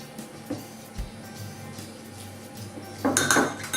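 Spoon stirring corn flour and soy milk in a bowl, with light clinks and scrapes against the bowl and a brisker burst of stirring near the end, close and fairly quiet.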